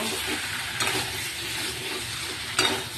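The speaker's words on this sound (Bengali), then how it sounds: "কারি পাতার গুঁড়োটা আমি নিয়ে নিয়েছি, এবার এর মধ্যে দিয়ে দিলাম, দিয়ে আবারও কষিয়ে নেব" Curry sizzling and frying in a pan as curry leaf powder is stirred in with cumin, coriander, ginger paste, chilli powder, salt and turmeric, a steady close hiss with two brief louder scrape-and-stir bursts.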